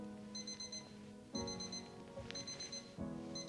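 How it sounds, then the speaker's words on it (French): An alarm clock ringing in repeated beeping bursts, steady and close, four clear pulses with a rhythmic pattern and a low background hum. "Le réveil sonne"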